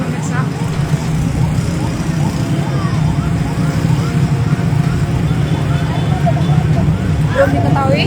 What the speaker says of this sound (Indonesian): Dapat dengar ya, sangat ramai di sini pemirsa.